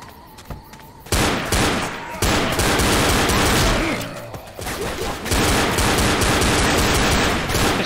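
Pistol gunfire in Left 4 Dead during the boathouse finale, dense loud rapid shooting with bursts and short gaps, close and continuous, mixed with heavy game noise.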